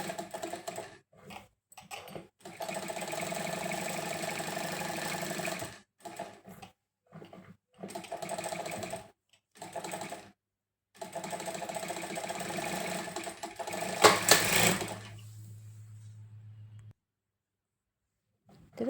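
A sewing machine stitches cloth in several bursts of rapid, even mechanical whirring, stopping and restarting between runs, close and clear, ending with a brief louder clatter and a low hum before it falls quiet.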